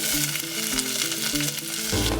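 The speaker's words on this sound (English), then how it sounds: "So I'm just gonna cook the veggies." Vegetables cooking in oil in a pan, with a constant loud sizzle; steady melodic background music runs over the frying throughout.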